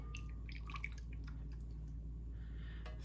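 Melted tallow poured from a pot into a bowl, giving faint, sparse drips and soft liquid trickles over a steady low hum, with no talking.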